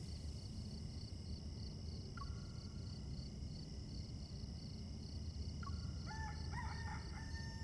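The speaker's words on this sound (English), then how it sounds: "The rooster already crowed." A rooster crows near daybreak in a game scene, with one short call early on and a longer, drawn-out crow later, both fairly faint over a steady ambient hiss and a high tonal hum.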